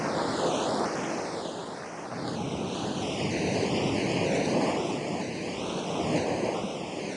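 Ocean waves surging and washing ashore below a lighthouse, a steady, close wash of surf with gentle swells in loudness and no voices.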